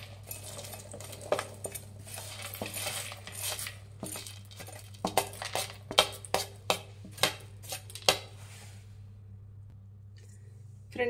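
Curry leaves, field beans and peanuts tumble into a mixing bowl for avare mixture, making a series of sharp, close clinks and rattles against the bowl, loudest in a quick run of distinct hits toward the end.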